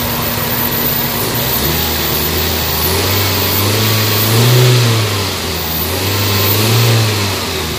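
A Toyota Vitz engine, one with a fault that makes it vibrate when reverse or drive is engaged, revs loudly and steadily up close, its drone swelling and easing in a couple of waves, with no talking over it.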